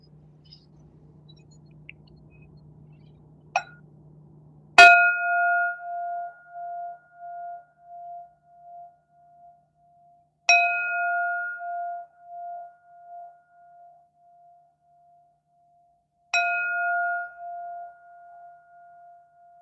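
Meditation bell struck three times at even intervals, each ring clear and sustained, then slowly fading and pulsing away into silence; a low hum sits underneath before the first strike.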